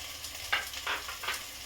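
Cauliflower, beans and carrot being stirred in a pan with sautéed onion for khichdi, soft intermittent scraping strokes over a faint sizzle, quiet and close with no voices.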